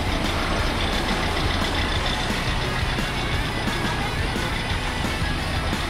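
An off-road jeep grinds steadily on a rough uphill forest trail in Sumedang, its engine a dense, continuous rumble that stays loud and close throughout.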